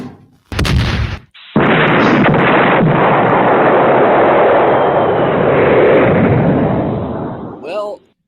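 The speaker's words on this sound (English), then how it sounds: "Let's fire the cannon and find out what you picked." A cannon blast sound effect: one sharp, very loud boom followed by a long, sustained roaring rumble that fades out after several seconds, ending with a brief tail of noise.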